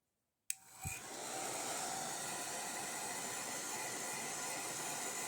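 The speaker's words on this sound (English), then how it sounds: "you can, of course, heat this up with a hairdryer like so" Hairdryer heating wax, switching on abruptly after brief silence and settling into a steady close-up whooshing blow that holds constant, with no voices.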